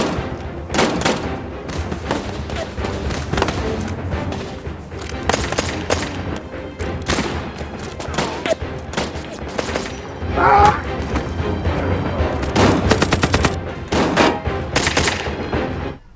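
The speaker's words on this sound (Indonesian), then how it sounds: "Mereka pun keluar dan langsung terlibat dalam baku tembak" Gunfire from a war film in which civilians and veterans take up arms: dense, rapid bursts of shots and booms keep coming throughout, with some indistinct voices mixed in.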